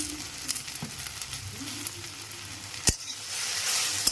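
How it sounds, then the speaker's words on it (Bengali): Okra frying in hot oil with turmeric and salt hisses in a constant close sizzle, broken by a few sharp ticks and one loud clack of a utensil against the pan. "না, এখন না, আগে ভাজা হয়ে যাক"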